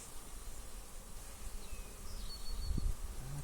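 A steady, faint buzz of angry honeybees at a hive hums throughout, with a few louder passes drifting near and away over a soft background.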